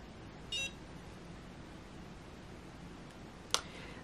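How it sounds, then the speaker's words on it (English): A small device gives two short electronic beeps a few seconds apart, faint against a quiet hissy room background. "You're supposed to wait for the beeps."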